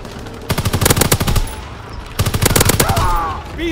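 Two rapid bursts of automatic machine-gun fire in a war video game, loud and close, each lasting about a second with sharp repeated shots.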